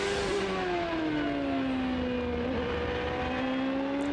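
An 800-horsepower Champ Car driven by Paul Tracy on cold tires at Brands Hatch accelerates back up to speed, its loud, close engine whining steadily upward in pitch through the gears with no pause.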